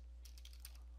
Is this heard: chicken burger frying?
no